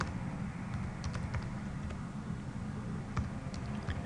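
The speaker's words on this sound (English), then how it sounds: "Typing in my bank number" Someone typing on a computer keyboard, entering a bank number during a bank reconciliation: faint, scattered key clicks at close range over a steady low background hum, with no voices.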